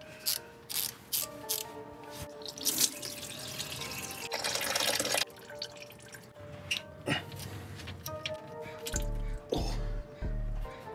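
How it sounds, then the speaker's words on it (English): Transmission fluid drains from the drain plug of a 1992 Mazda Miata during engine and transmission removal, a close, steady trickle with drips and splashes into a pan, interrupted by short clanks and a few bursts of spray. "we'll drain the transmission fluid as well to prevent making a big mess when we pull the engine and transmission out as an assembly"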